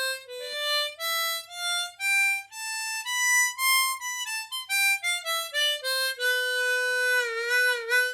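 A tremolo harmonica played on the top row only gives a clear, reedy melody of sustained notes, rising then falling in pitch, ending with bent, wavering tones, played alone.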